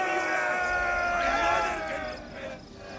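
An army crowd cheers and shouts in the Total War: Rome II game, a dense roar of many voices that stays steady and loud, then eases slightly toward the end.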